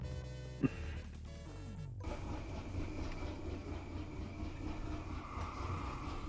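A military train double-headed by a big DE6 diesel locomotive runs in the railway game Derail Valley, a steady heavy rumble with faint clickety-clack after a brief knock at the start, continuous and with no voices.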